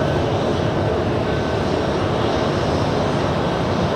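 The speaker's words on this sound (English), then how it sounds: "You're looking at JetBlue flight 158 inbound from Oronstedt." A JetBlue airliner inbound to JFK airport produces a loud, continuous broadband engine roar that holds steady throughout, with no speech.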